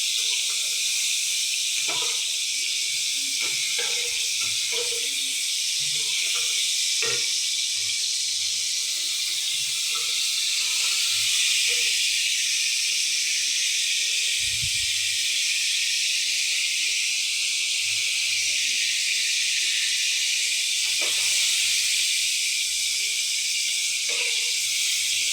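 Pointed gourd (potol) frying in a pan for a spiced curry, giving a steady, continuous hiss of oil with scattered small pops and crackles throughout, close and fairly quiet, with no talking.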